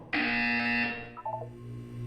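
A loud, steady electronic buzzer from Portal 2 blares for about a second, then cuts off, leaving a few soft beeps and a low hum behind.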